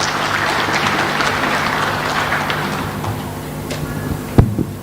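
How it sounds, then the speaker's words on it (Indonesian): A church congregation applauds during a service, a steady wash of clapping that slowly fades, with a low hum underneath and a sharp knock near the end. "Sekali lagi kita berikan tepuk tangan yang meriah buat Tuhan Yesus"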